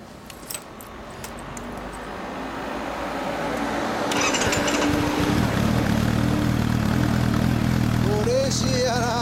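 A 2012 Honda CB400SF Hyper VTEC Revo (NC42) with a Yamamoto Racing Spec-A center-up exhaust idles steadily, the engine note swelling louder partway through, with brief metallic rattles early on and a faint voice near the end.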